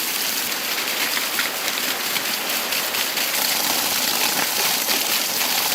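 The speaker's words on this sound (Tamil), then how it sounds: "மழை வருது" Steady rain pours down in a rural village, a dense continuous hiss of drops striking surfaces, even and fairly loud throughout with no voices.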